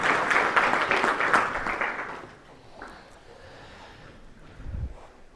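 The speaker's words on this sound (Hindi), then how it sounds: "जोरदार तालियों के साथ स्वागत।" A studio audience claps to welcome a guest on a Hindi talk show, a dense burst of applause for about two seconds that then fades into quiet room tone.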